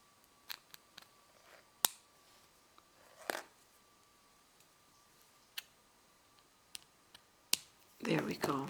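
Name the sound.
scissors cutting thread for needle tatting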